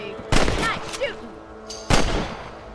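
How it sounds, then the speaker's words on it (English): Two sharp gunshots ring out in Red Dead Redemption as rabbits are shot, the first near 0.3 seconds and the second about 1.6 seconds later, each loud with a short decaying tail over faint ambient background and a brief vocal sound between. "Better at shooting rabbits and outlaws, I see."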